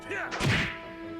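Heavy impact of the Break Cannon attack in the Trails in the Sky SC game, a single thick thud-like whack with a short crash tail.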